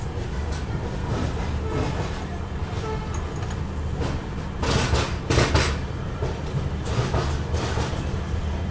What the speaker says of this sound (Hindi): फाइनली अभी अपनी ट्रेन निकल रही है लमडिंग जंक्शन से